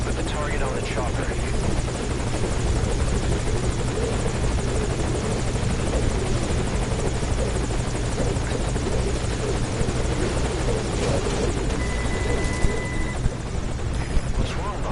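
A helicopter hovers at a landing zone in the Metal Gear Solid Ground Zeroes video game, a loud, steady rotor and engine roar filling the whole stretch without a break.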